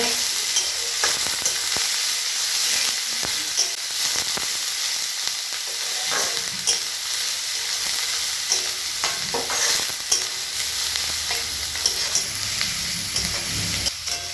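Chopped onions frying and being stirred in a pan until browned for chicken do pyaza, a steady close sizzle with scraping stirs throughout and no talking.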